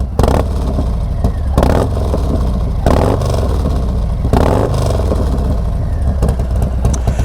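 A Harley-Davidson Street Bob 114 with an S&S 475 cam and Cobra El Diablo 2-into-1 exhaust revs loudly several times, each throttle blip rising and falling over a rough, steady idle, close by.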